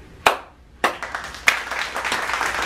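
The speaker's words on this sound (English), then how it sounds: "let's give a big applause for those kids on the show" Applause for children on a show opens with three sharp, separate claps, then thickens into steady, moderately loud clapping.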